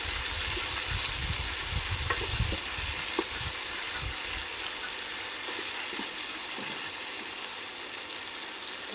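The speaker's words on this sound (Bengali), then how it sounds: "এখানে পেঁয়াজটা ভেজে নিচ্ছি।" Onions and chopped tomato fry in a pan with salt, giving a steady close hiss and crackle, with scattered soft clinks and scrapes underneath throughout.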